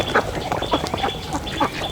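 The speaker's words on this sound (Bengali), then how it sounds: "আমার এখানে হাঁস অনেকগুলোই ছিল কিছু পুরুষ হাঁসের সংখ্যাটাই বেশি ছিল" Ducks quacking on a duck farm, a busy chorus of many overlapping quacks from a crowded flock, loud and close with no pause.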